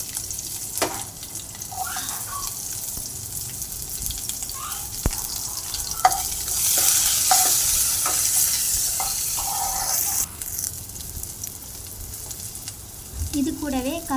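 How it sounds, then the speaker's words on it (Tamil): Onions dropped into hot oil with spluttering mustard seeds, frying with a steady, loud sizzle and crackle, with a spoon stirring and scraping the pan now and then. "கடுகு நல்லா பொரிஞ்சோடனே இதில் வெங்காயம் ஆட் பண்ணிக்கலாம்."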